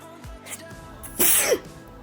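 A single close sneeze erupts after a few faint breaths, indoors at night, with a sharp explosive burst that fades quickly into quiet.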